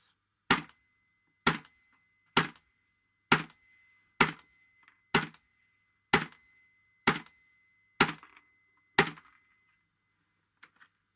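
EMG Noveske N4 airsoft rifle on green gas firing 0.2 g BBs from a standard magazine: ten sharp, evenly spaced semi-auto pops about one second apart, close and crisp, followed by a faint click, no talking.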